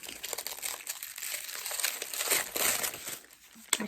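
Crinkly packaging from a cosmetics box in a Look Fantastic advent calendar being handled and unwrapped, with steady close rustling and crumpling throughout and a sharp crackle near the end.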